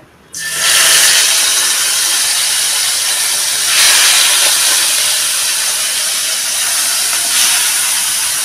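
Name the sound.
prawns (chingri) sizzling as they fry in oil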